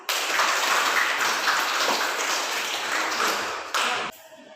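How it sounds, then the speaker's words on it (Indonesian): A class of schoolchildren and their teacher clap their hands together in a classroom, a dense, steady burst of many hands that carries on for about four seconds before stopping abruptly. "kita tepuk tangan bersama-sama"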